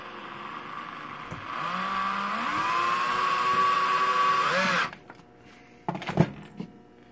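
A power drill whirs with a rising, straining whine for a few seconds while tightening a screw in a stop-motion puppet armature, then cuts off, followed by a couple of light knocks.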